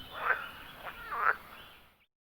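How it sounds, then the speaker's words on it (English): A frog croaks a few close, distinct ribbit calls, clear against a quiet background, before the sound cuts to silence. "A frog goes ribbit"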